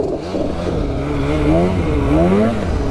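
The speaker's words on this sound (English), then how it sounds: "I think my reeds are going just by the way it's idling." An engine with suspected worn reed valves and a newly fitted catalytic converter idles close by, its steady running wavering slightly in pitch without settling into a smooth rhythm.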